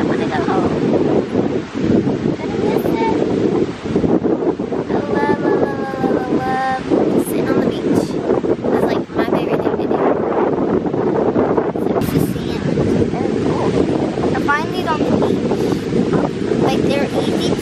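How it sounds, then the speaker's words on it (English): Ocean waves and strong wind at the beach, loud constant wind buffeting the microphone with surf washing underneath, while people talk over it. "enjoy the ocean waves"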